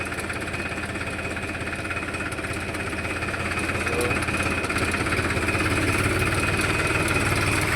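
A tractor engine runs steadily close by while the tractor is brought in to haul loads, a continuous rumbling drone with a fine pulsing throb that builds slightly louder toward the end, with no voices.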